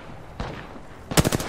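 Gunfire in a multiplayer shooter video game: one short burst, then a louder rapid run of about four or five shots close up, with no talking.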